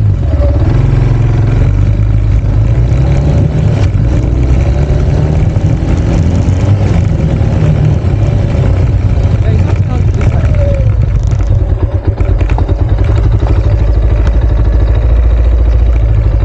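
A motorbike with a fault idles loud and close with a steady rumble. Faint speech runs beneath the engine noise.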